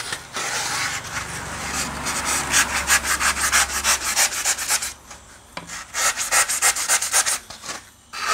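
Rhythmic back-and-forth strokes of a hand saw cut a piece for a hanging pot, close and steady, with a short pause before the sawing resumes.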